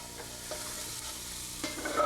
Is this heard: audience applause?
no